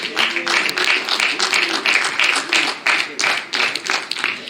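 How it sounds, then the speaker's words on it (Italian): Audience applause welcomes musicians back to the stage at the 2021 Città di Olbia literary prize award ceremony: a full, sustained wash of many hands clapping with a lightly pulsing rhythm, fairly loud and near throughout. "accogliamo di nuovo con un forte applauso Gavino Locke e Serenella Lunesu"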